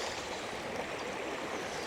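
Fast-flowing shallow river water rushes in a steady, even hiss and babble, continuous and moderately loud at close range, with no voices over it.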